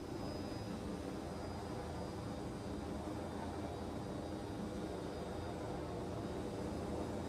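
A video game jet fighter engine roars on afterburner with a continuous, even, broadband rumble and hiss that stays steady and fairly faint throughout, with no talking.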